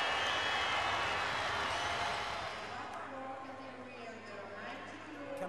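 Crowd at the Paris judo Grand Slam cheering and applauding after a big throw, a loud roar that gradually fades, with commentary spoken over it.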